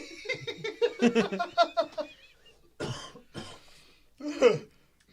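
A person coughs in a rapid burst of several harsh coughs, then a few more separate coughs with pauses between, close and fairly loud.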